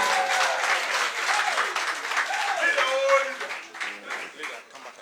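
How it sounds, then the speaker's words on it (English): Audience applause at a political gathering welcoming the Member of Parliament for Tamale South onstage, dense and sustained, with voices and cheers mixed through it and easing slightly toward the end. "With a round of applause, let's welcome."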